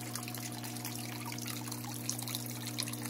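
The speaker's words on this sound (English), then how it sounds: "I actually expected to have even more vigorous water flow than usual. And this is all I've got. It's a trickle." A small backyard waterfall barely flowing, a thin, steady trickle of water splashing softly, with a constant low pump hum underneath and no talking.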